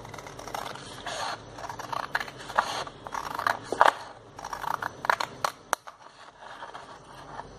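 Scissors cut a strip of paper for a craft project, producing close, uneven snips and crisp crunching rustles in irregular bursts, then trailing off into quiet near the end, with no talking.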